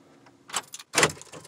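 A car's power door locks release when the ignition is switched off, controlled by a Toyota RS3000 alarm, giving two quick, close mechanical clunks with a faint motor buzz before them.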